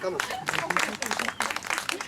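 A small group claps hands indoors at a health and exercise session, giving a quick run of irregular, fairly close claps, with voices mixed in.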